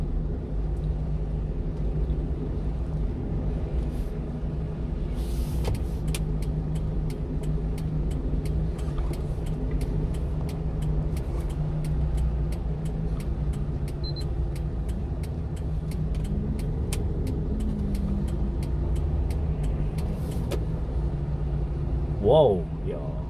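Cars idling and creeping through heavy stop-and-go traffic at red lights in Bundang, Korea, heard as a steady low engine rumble with passing-vehicle swells and faint clicks, with people talking over it.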